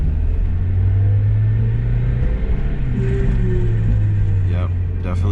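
A Mazda Miata driving in first gear with a failing differential, heard as a steady low drivetrain rumble and droning whine inside the car, loud and continuous, with brief voice sounds toward the end.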